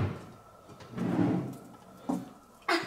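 Indoor drawer being pulled open and shut during an Easter egg hunt: a soft sliding rumble followed by two sharp knocks, close by and with no voices.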